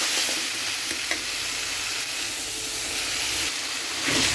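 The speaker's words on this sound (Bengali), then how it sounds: "ভালো করে মিক্স করে ভালো করে ভেজে নেব" Spice mixture with a little salt frying and being stirred in a pan, a continuous close sizzle and hiss with occasional scraping stirs.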